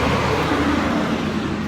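A large truck drives by near a cemetery in Atlanta, producing a continuous, dense rumble of road and engine noise at close range, with no voices.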